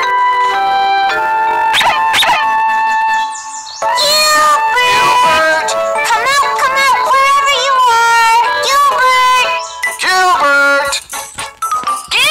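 A cartoon cat meows repeatedly and loudly against bright, tinkly background music, the drawn-out cries rising and falling over about twelve seconds.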